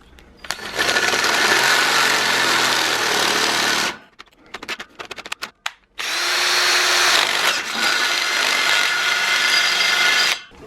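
A power drill whines loudly and steadily while drilling holes in a motorcycle wheel rim, stops briefly with a few stuttering bursts, then grinds on again at full speed, close up.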